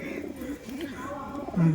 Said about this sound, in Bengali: এই দেখুন পায়রা দেখুন দেখুন পায়রাটা দেখতে পাচ্ছেন